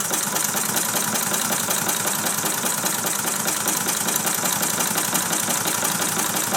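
A Mamod SP7 model steam engine running under load on solid fuel, lifting a heavy hook on a Meccano build, giving a steady, fast, even chuffing and mechanical rattle throughout, close and constant.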